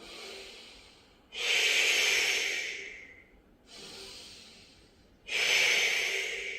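Forceful exhales during an abdominal workout, two long breathy rushes of air, each strong at the start and tapering off, with softer breathing between them, close and alone.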